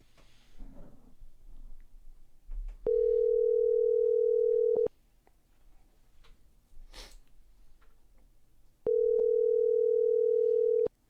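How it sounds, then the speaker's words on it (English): A phone line rings during an outgoing call on a podcast: two long, steady tones about two seconds each, separated by a quiet gap, loud and clean with faint background noise between. "Pick up the phone."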